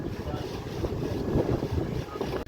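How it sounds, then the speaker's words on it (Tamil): Strong wind rushes over a fishing boat at sea, a dense steady roar buffeting the microphone with low rumble and a faint murmur of voices beneath. "காற்று பெஷலாக இறங்குது"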